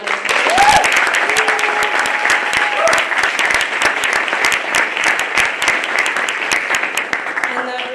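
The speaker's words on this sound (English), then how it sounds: "A big round of applause." Sustained audience applause in a university room after spring capstone final briefings, a dense steady wash of many hands clapping throughout, with faint tonal sounds and a voice briefly audible beneath it.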